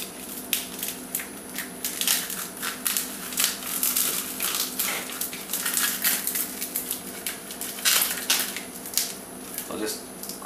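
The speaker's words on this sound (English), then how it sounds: "I'll just crush the sharp edges there." Dried sheets of dehydrated tomato sauce made with olive oil being crushed by hand at the edges, a series of crisp crackling crunches at close range, fairly quiet, with no speech.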